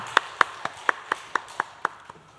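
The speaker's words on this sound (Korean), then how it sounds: "하나님께 영광의 박수 드리겠습니다" A church congregation at a dawn prayer service claps together in unison: about nine crisp, evenly spaced claps in a steady rhythm that fade at the end.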